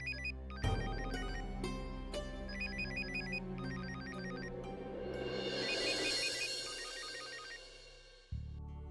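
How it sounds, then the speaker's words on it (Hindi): A phone ringtone rings in a household scene from a TV drama, a bright repeating electronic melody that swells in loudness, plays for several seconds and then cuts off with a thump. "अरे आई, फोन देखना किसका फोन है?"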